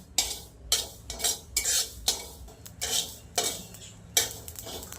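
A utensil stirs coconut and jaggery modak filling roasting in a pan on a low flame, giving close, rhythmic scraping strokes about once or twice a second with a faint sizzle between them.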